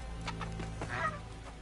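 A bird clucking in Horizon Forbidden West, a few short clucks over a low game soundscape, brief and moderately close.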